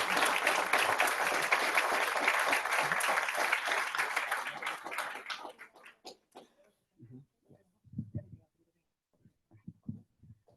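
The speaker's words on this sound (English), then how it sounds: "Give them a huge round of applause." A school board meeting audience gives a big round of applause, with loud, dense clapping for about five seconds that thins into a few scattered claps and fades into near silence with faint movement.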